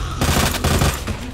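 Rapid automatic gunfire in Resident Evil 2 crackles in a dense, loud burst, with a couple of short breaks between volleys.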